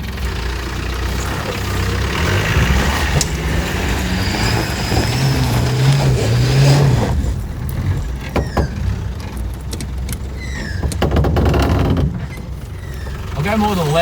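A 4x4 car engine idles and revs while driving over rough off-road ground, loud and close, with rising and falling swells and people talking over it.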